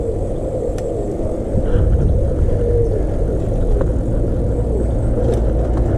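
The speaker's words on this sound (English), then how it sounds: "I've got a car coming up behind me" A car draws up from behind on a country road, its rumbling motor growing louder beneath steady wind and engine noise from a Di Blasi R32 trike being ridden.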